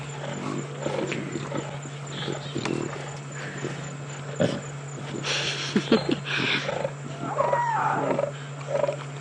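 A lioness snarls and gives growling roars at her cubs out in the African bush, rough throaty bursts at close range coming in uneven bouts over a low steady background hum.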